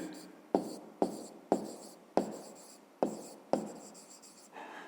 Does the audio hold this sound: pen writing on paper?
yes